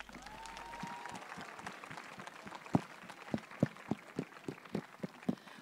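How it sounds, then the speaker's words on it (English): A small audience at a Christmas awards event gives the performers a round of applause, though it lands as a sparse, uneven scatter of distinct claps rather than dense clapping, fairly close and clear over quiet room tone. "Please join us in giving the performers another round of applause"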